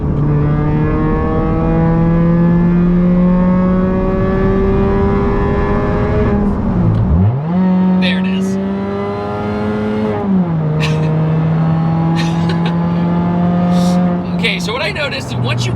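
A supercharged Mazda 3 accelerating hard from inside the car: the engine note climbs steadily and loudly, with two quick drops at upshifts before it pulls up again through the higher gears.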